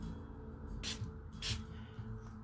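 Spray bottle misting water onto angled watercolour paper, two short close hissing spritzes about half a second apart against a quiet room.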